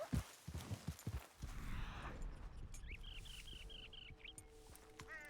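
A horse's hooves clop in a short run of close, distinct thuds in a roleplay video game, then give way to a quieter outdoor scene with chirping bird calls.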